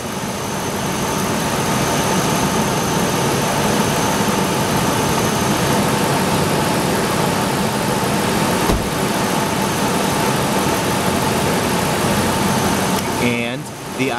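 A car engine idles steadily during an idle air control valve test, a continuous mid-pitched hum with a faint click midway and some rattling near the end, while a person talks over it.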